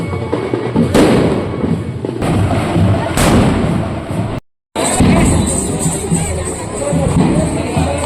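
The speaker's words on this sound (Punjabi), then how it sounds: "ਕਈ ਸਿੰਘ ਜਿਹੜਾ ਪਟਾਕੇ ਚਲਾ ਰਹੇ ਨੇ" Firecrackers burst repeatedly during the Deepmala Mahalla procession at Hazur Sahib, loud sharp bangs recurring every second or so over a noisy crowd, with one brief cutout of silence.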